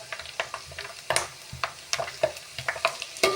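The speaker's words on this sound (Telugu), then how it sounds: "నూనెలో వేసానండి. ఇది మంచి బ్రౌన్ కలర్ వచ్చేదాకా మనం వేపుకోవాలి." Bhoti pieces frying in hot oil, with crackling pops and bursts of sizzle coming in an irregular rhythm, close and moderately loud.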